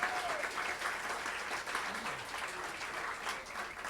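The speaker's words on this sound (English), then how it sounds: "let's hear it for that donation in Betsy's honor." An audience at an International Day of Peace event applauds a donation. The clapping is steady, moderately distant and continuous, with no voices over it.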